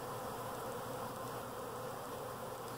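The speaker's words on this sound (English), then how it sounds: "our honeybees doing an orientation flight" Honeybees buzz in a steady, dense drone around the hive entrance during an orientation flight at an apiary, a continuous swarm hum with no pauses and no voices.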